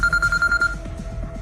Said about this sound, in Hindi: तभी शिवाय के फोन पर किसी का कॉल आया।